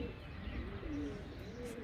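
A pigeon coos softly nearby, a low rolling warble repeated a few times over a quiet background hum.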